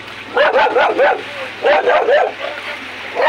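A dog yips and barks in quick bursts, with yelping, whining tones, close by over a steady low engine-like hum.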